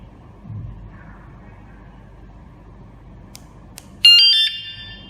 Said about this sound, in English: arm button, then the alarm will sound do re mi